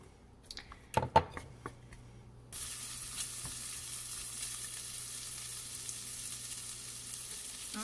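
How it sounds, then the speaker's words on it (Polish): Bacon hits a pan with a little butter after a few clanks of utensils, then a steady, even sizzle of frying fills the rest, close and moderately quiet. "dodajemy troszeczkę masła, niedużo, bo boczek ma swój tłuszcz, i dodajemy boczek. I smażymy boczek"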